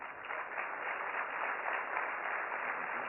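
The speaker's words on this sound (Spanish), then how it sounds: "Vallejo, presidente nacional de Canacintra, para quien pido un fuerte aplauso." Steady, dense applause from an event audience welcoming a host, a continuous wash of clapping that holds even and unbroken throughout without any voices.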